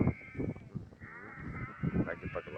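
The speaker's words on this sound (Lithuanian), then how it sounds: "Monika, čia tavo avytės." Sheep on a farm give wavering bleats up close, several calls in quick succession, while people talk softly nearby.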